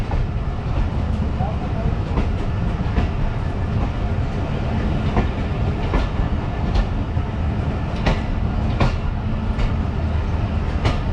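The 12DN Awam Express passenger train runs from Taxila to Lahore with a loud, steady rumble. Regular clickety-clack beats from the wheels sound throughout the ride.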